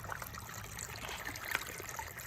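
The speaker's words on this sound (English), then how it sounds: "The water is also colliding with huge amounts of rocks that are in the river channel." River water flowing and splashing over large rocks in the channel, a continuous close trickling rush with no voices.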